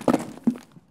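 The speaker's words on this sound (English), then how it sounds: "I hear more steps" A couple of soft footsteps inside a sanitarium building in Escape from Tarkov, two muffled thuds close together followed by a fainter third, quiet and near.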